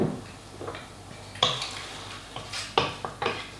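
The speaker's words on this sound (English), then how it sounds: "It's really important with a risotto just to keep stirring it so it's always on the move." A utensil scrapes and taps around a pan while mushroom risotto is stirred after a splash of white wine, in soft, irregular knocks and clinks over a low background hiss.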